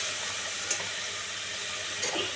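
Water poured into a pan of fried spiced masala for an okra curry, a continuous bright hissing rush with faint splashes, steady and close throughout.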